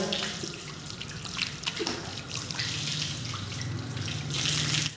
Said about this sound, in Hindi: टखनों समेत पाँव को धोना है।